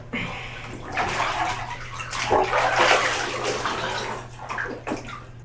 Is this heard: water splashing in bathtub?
yes